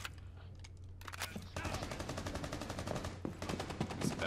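Rapid automatic gunfire in Rainbow Six Siege, dense bursts of shots close by that start after a short quiet stretch and continue steadily to the end, with faint voices in the background.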